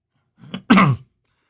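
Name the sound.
cough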